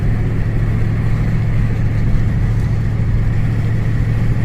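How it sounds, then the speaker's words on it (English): A car's exhaust rumbles through its muffler in a low, steady drone that holds an even, close level throughout, with no one talking. "muffler, enjoy the exhaust."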